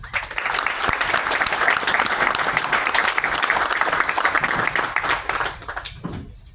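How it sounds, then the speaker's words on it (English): A crowd gathered outdoors for a city mural unveiling at a PSE&G station bursts into steady, dense applause that holds strong for several seconds, then thins and fades toward the end. "please give a round of applause"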